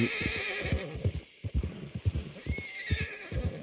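A horse in Red Dead Online, a race horse, whinnies loudly with clip-clop hooves underneath, a short close-up call with no talk.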